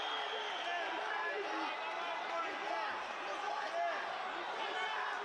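A large crowd at an MMA fight in St. Petersburg roars continuously and loudly, a thick wall of cheering with individual shouting voices rising and falling within it.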